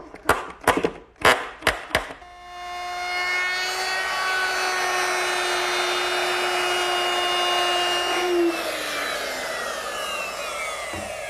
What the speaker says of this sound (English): I'll secure the top in place using some 1 5/8" bugle head screws.